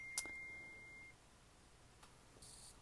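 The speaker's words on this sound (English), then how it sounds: "this is my work phone going off" A work phone alert sounds as one short, sharp high beep near the start, then a thin steady tone that fades, with faint clicks later in a quiet room.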